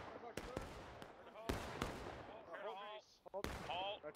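Musket volleys crack out in War of Rights, a Civil War video game: several sharp shots, some near and loud, others distant, mixed with shouting voices and chatter.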